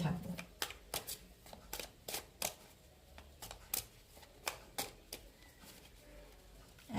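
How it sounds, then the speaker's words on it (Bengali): Tarot cards being shuffled by hand, a series of crisp riffling bursts in an irregular rhythm, close and fairly quiet, with a voice talking softly in between. "চলো এই কার্ডগুলোকে সাফল করে নিয়ে আজকে রাখি"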